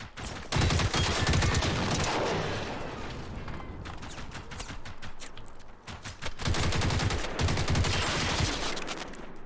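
Gunfire and explosions in Generation Zero, dense rapid bursts of automatic fire with heavy booming blasts, loud and continuous across two long volleys separated by a brief lull, with no talk.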